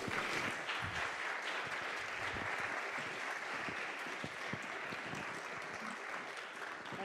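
Lecture audience applauds warmly to welcome the speaker, Sophia Rosenfeld, at the Besterman Lecture 2021; dense, sustained clapping from a roomful of people, even in loudness throughout with no voices over it.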